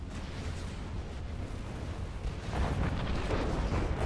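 Unit cannon volley and artillery blasts in the Planetary Annihilation strategy game, a continuous rumbling barrage of explosions that swells louder partway through, with no voices.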